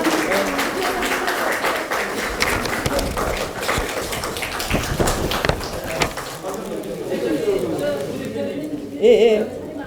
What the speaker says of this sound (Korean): 강은미 부대표님, 큰 박수 부탁드립니다